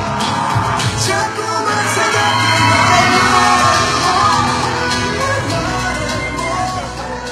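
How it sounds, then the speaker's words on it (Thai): A loud crowd at a Song Joong-ki press conference and fan meeting cheers, yells and claps in welcome, a dense, steady roar of voices and applause sustained throughout. "ขอเสียงปรบมือกันต้อนรับส่งจุงกีค่ะ"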